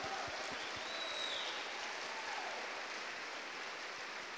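Steady, dense applause from a church congregation at a revival conference, a continuous even wash of clapping that holds without pause.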